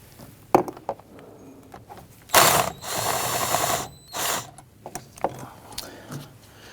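A socket ratchet clicks in quick bursts while backing out the 10mm bolts of the air filter box on a 2011–2015 Kia Sorento, with metallic handling noises between, close and clear without talk.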